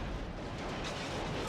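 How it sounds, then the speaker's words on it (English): A loud, sustained roar of an explosion in Resident Evil 0, a dense rumbling blast that fills the whole moment without letup. "Outrun the explosion!"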